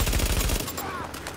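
Rapid automatic gunfire from the video game Tom Clancy's The Division, a loud, fast burst of shots for about half a second that then drops to a quieter, scattered tail.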